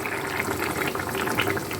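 Fish curry with potato, peas and capsicum bubbling steadily in a pot, a continuous soft simmering hiss with small popping bubbles, close and alone.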